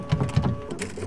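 Video-game office printer running in a late-night horror game, a short mechanical whirring and chattering burst with a steady tone, moderately loud and heard alone.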